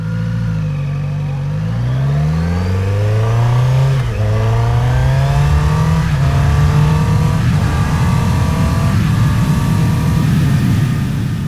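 A Kawasaki Z900RS motorcycle engine pulls hard, its note climbing through the revs, dipping at a gear change and climbing again, loud and close over steady wind noise with no talking.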